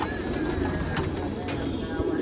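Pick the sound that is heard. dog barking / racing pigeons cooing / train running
racing pigeons cooing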